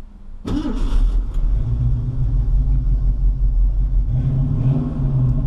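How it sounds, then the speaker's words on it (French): A 1970 Ford Mustang Coupe engine cranks and catches with a sudden roar, then settles into a steady, deep idle rumble, briefly swelling near the end. "Donc contact, moteur et c'est parti."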